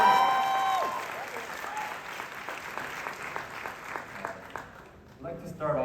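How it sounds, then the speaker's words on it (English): An audience at a startup competition event applauds Kevin O'Leary, clapping that starts under a speaker's voice and fades out over several seconds. "Let's give another round of applause to Kevin O'Leary."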